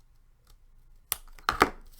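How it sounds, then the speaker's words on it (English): Scissors trim a small piece of paper for a handmade card, giving a few crisp, close snips in quick succession after a near-silent start. "all I have to do is trim off that little piece at the bottom"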